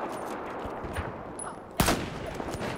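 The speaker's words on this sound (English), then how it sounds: "Oh, that was a terrible shot." A single loud gunshot from an M40A5 sniper rifle in Battlefield 4 multiplayer gameplay cracks out sharply partway through, set against a steady background of game ambience and faint distant noise.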